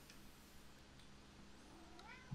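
A house cat gives a soft, drawn-out meow with wavering pitch near the end, quiet and close over faint room noise.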